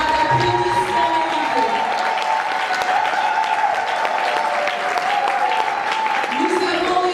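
Wedding guests at an evening reception applaud the bride's parents with dense, sustained clapping from the whole room, heard over held musical tones.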